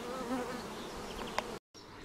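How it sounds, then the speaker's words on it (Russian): Agitated honeybees at an apiary on a hot day fill the air with a dense, continuous buzzing swarm, individual bees droning past nearby, with a brief dropout of sound near the end. "И пчелки чуть-чуть беспокойные летают."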